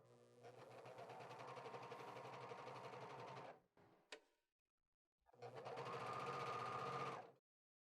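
Sewing machine stitching and trimming a t-shirt sleeve, running in two steady bursts of rapid mechanical whirring separated by a short pause with a brief click.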